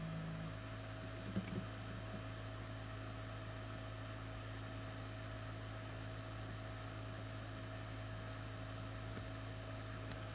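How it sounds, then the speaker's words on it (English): A room heater runs indoors with a steady, low mains-like hum that drones evenly and quietly the whole time, with a few faint clicks and taps near the start. "I'm going to turn my heater off so I can show you guys."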